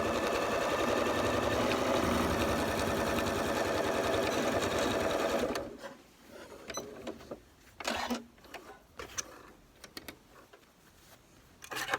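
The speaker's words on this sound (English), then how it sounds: "I make sure that that one does get sewn into the back" Sewing machine stitching fabric Halloween bunting, a loud steady rapid whir for about five seconds, then stopping, followed by quieter handling clicks and rustles.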